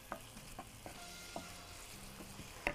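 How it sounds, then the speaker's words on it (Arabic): Onions sauté in a little oil in a pan for chicken kofta pasta, a faint continuous sizzle broken by several soft scraping stirs and a sharper knock near the end. "هنشوح"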